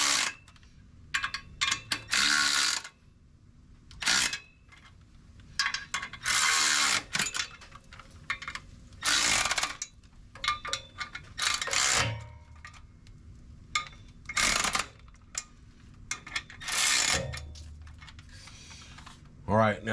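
Clutch bolts on a 1997 Jeep Wrangler TJ being tightened with a ratchet, heard as close bursts of rapid clicking separated by pauses, with someone speaking in between.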